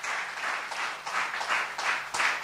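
A church congregation claps steadily, a dense wash of many hands that swells in repeated waves and stays loud throughout.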